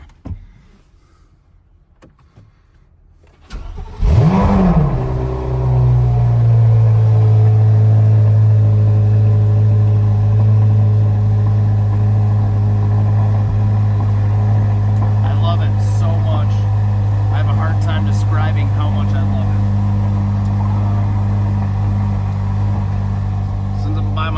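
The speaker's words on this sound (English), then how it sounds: "I don't know if you guys have got to hear a cold start on one of these, but it's neat" A Corvette C8 Z06's LT6 5.5-liter V8 cold-starts: after a quiet moment, the starter catches, revs flare sharply, then settle into a loud, steady, high fast idle that holds for the rest of the clip.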